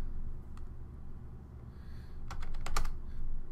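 A password is typed on a computer keyboard: a few isolated key clicks, then a quick cluster of sharp, close taps over a low background hum.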